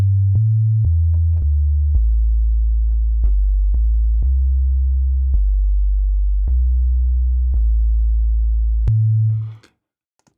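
Pure synthesizer sub-bass sine tone, playing a low stepped sequence of sustained notes with faint clicks at each change, loud and alone, then ending abruptly near the close.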